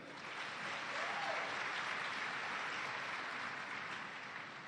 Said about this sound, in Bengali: আমরা কি আমাদের এই এক্সিলেন্ট প্যানেলের জন্য প্রথমে একটু করতালি পেতে পারি?